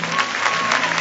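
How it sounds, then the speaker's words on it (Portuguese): A church congregation claps for Jesus during a sermon, a short burst of many hands applauding together, dense and fairly loud, with a faint voice or tone lingering underneath. "Dá uma salva de palmas a Jesus com toda a tua força."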